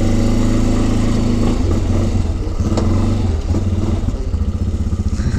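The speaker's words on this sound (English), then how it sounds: "Out here in Pocatello on the four wheelers." A four-wheeler ATV quad engine runs steadily and loud while riding outdoors in Pocatello, Idaho, with a rough rhythmic throb and slight revving, no talking.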